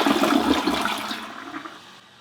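An American Standard 4188A low-flow toilet flushes loudly up close, a rushing gurgle of water that fades over two seconds to near silence.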